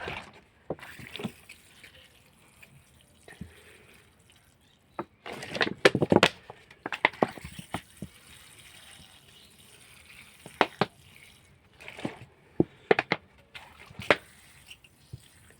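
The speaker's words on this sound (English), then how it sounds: "So I'll just let that soak in, get some more water and do the same thing." Water is poured into the soil of a potted pepper plant that was recently moved from the ground to be overwintered. Intermittent close splashes and trickles come in short bursts separated by quiet gaps and drips.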